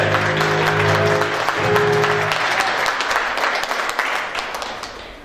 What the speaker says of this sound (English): let's give a big round of applause for Robbins Elementary and Rosen